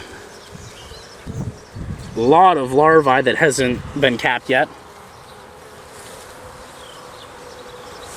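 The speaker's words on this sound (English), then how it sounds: "I'm gonna flip it over here, and so you can see a lot of bees over here." Faint, steady buzzing of honeybees on a hive frame runs throughout, while someone talks close by for a few seconds in the middle.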